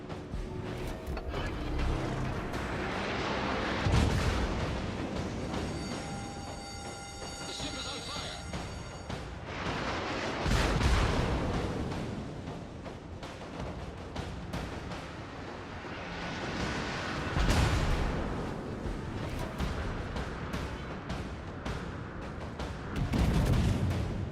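Heavy naval guns from the battleship Roma boom in a World of Warships battle, with several loud salvos spaced several seconds apart over a rumbling background, beneath occasional talk.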